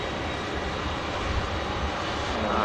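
A jet airliner's engines roar steadily at Manchester Airport, a loud, broad, unbroken rumble and hiss that holds at an even level throughout, with no voices over it.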